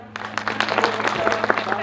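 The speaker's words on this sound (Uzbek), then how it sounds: "Pastarg'omning eng zo'r yangasiga qarsak bo'lsin." Guests at a wedding break into a short burst of applause, scattered claps under a background hum and someone speaking over it.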